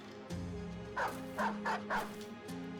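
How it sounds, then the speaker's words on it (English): A war dog in Battle Brothers lets out a quick series of four sharp barks, close and clear over a droning game soundtrack, with a fainter yip near the end. "This dog is being dumb."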